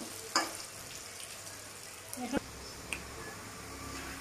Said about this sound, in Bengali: ভালো করে আলুটাকে ভেজে নিতে হবে